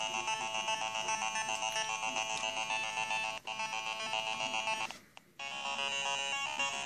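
Bright, bleepy chiptune music from an original Nintendo Game Boy plays alone at a steady level, with tonal square-wave melody lines that briefly cut out twice near the end.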